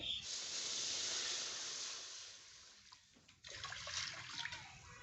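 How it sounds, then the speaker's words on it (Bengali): Water pours into a kadai with a steady rushing hiss that eases off, then a brighter splashing burst, with no one speaking. "এখন কড়াই দিয়ে দিচ্ছি জল"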